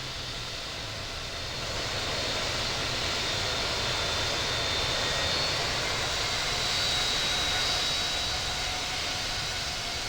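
Airbus A320 jet engines taxi in the Infinite Flight simulator game, making a steady, broad rushing hum with a faint high whine, continuous and even throughout with a slight swell midway.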